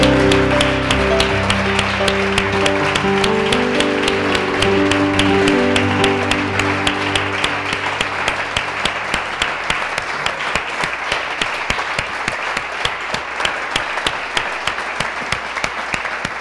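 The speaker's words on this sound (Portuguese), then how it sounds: "dê uma linda salva de palmas a Ele" A church congregation claps together at length in sustained, crackling applause, with held musical tones underneath at first; the clapping then gradually loosens into a more distinct, rhythmic patter.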